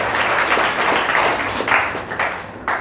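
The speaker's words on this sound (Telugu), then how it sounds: "చప్పట్లు కొట్టి తెంపచ్చండి." A church congregation claps hands during Sunday worship, a loud, steady burst of many hands that continues for a few seconds, with a few stronger surges near the end.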